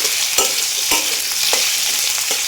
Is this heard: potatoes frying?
yes